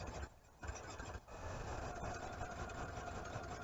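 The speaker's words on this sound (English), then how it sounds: "And then we're going to take the machine and stitch it up." A sewing machine stitches along the edge of a raglan T-shirt, giving a continuous motorized whir with brief pauses and restarts, fairly faint and steady throughout.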